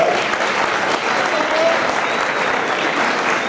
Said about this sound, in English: Nice round of applause for your good sportsmanship.